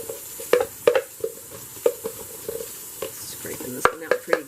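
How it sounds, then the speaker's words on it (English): A utensil scrapes a sticky peanut butter mixture out of a container, giving repeated short scrapes and taps in an irregular rhythm, close and moderately loud with no talk. "Scraping this one out pretty good."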